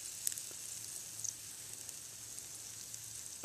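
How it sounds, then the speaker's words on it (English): Steady sizzling hiss of steak frying in a pan, continuous and fairly quiet, with faint crackles popping through. "I can hear my steak over here sizzling."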